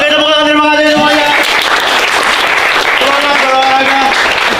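Schoolchildren applauding at a school, a dense, loud, steady clapping that runs the whole time, with children's voices and chatter mixed in.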